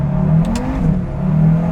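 A KTM X-Bow GT-XR sports car driving and accelerating, its engine a steady close drone that swells briefly in pitch, heard alone without talk.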